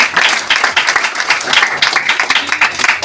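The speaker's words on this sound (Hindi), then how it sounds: "जबरदस्त ताली होना चाहिए" Seminar audience applauding in a hall, loud and close, with many hands clapping in a thick, pulsing wash that keeps going steadily without any talk.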